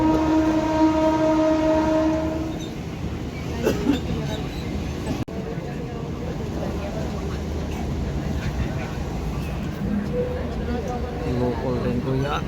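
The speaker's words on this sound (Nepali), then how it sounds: "Mumbai local train" Mumbai local train running on its morning commute, a steady rumble of wheels and carriages with a brief horn-like tone early on, voices faintly mixed into the noisy ride throughout.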